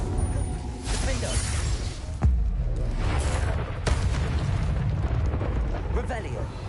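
Rumbling blasts and booms from spells cast in the Hogwarts Legacy video game, loud and continuous with sharp cracks over a heavy low roar, while a player calls out under the din.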